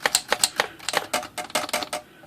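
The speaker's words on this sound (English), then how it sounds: "Crank those keys up, and then it's going to type." Keys and levers on a Remington portable typewriter with a stuck carriage are pressed in a quick run of about a dozen crisp close clacks, some spaced and some in tight bursts.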